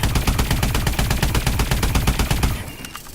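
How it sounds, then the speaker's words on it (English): An AE4 rifle in Call of Duty Advanced Warfare fires a loud, steady full-auto stream of evenly spaced shots for about two and a half seconds, then stops as the sound trails away. "So this is how fast the normal AE4, it has 20 shots."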